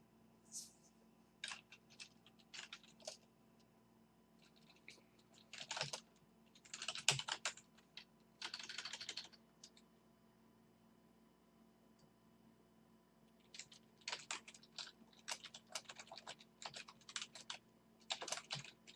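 Keys typed on a computer keyboard come in bursts of quick, close clicks, pausing now and then, with a steady low room hum underneath.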